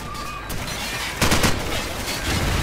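Gunfire erupts in Call of Duty 4: Modern Warfare, a quiet stretch giving way to a sudden loud burst of shots and crackling impacts midway, then continuing rough noise, with no speech.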